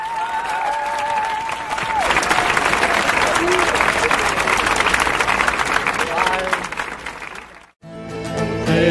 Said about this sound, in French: je vous demande de les applaudir encore une fois